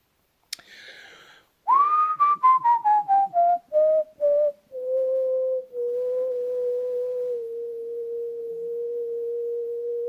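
Low whistled notes practised at the bottom of the range: a short burst of rapid stepping pitches dropping lower, then long sustained low tones held alone, clear and close with no talking.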